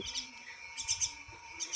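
An injured myna chick gives faint, high chirps in short clusters of two or three at close range against a quiet background.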